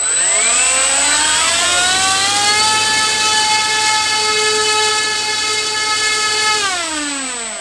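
Electric motor and propeller of a 980mm P-39 Cobra II Racer RC model plane, very loud and close, spooling up to a sustained high whine that holds steady for several seconds and then winds down.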